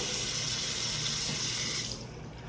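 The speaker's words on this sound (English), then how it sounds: "I ran the hot water, plenty of hot water." Hot water gushes steadily from a bathtub tap into a pink cast iron tub, a strong, close hiss of flowing water that cuts off near the end, leaving quiet room tone.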